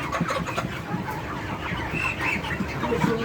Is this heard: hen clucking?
yes